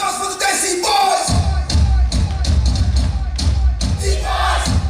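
School annual function audience of students cheering and whooping for a boys' dance group, a loud crowd roar rising after a brief lull, with shouts and a voice over it.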